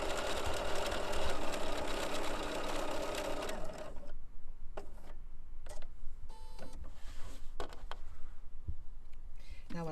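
BERNINA sewing machine stitching with the #12 foot along bias fabric, a fast whirring run for about four seconds, then stops, followed by handling clicks and rustles.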